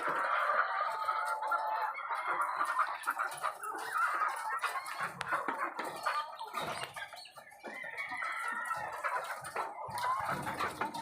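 Laying hens (RTL) cluck and squawk close by in a steady, busy stream, with occasional sharper calls and faint rustling.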